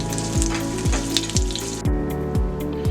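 Green chillies fry in a pan for a bitter gourd curry, giving a steady close sizzle and crackle with light spits, and no one speaks.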